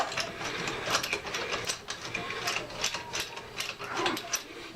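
Rapid ratcheting clicks of a hand tool loosening car lug nuts during a brake pad replacement, close and steady, continuous mechanical clicking with no talk.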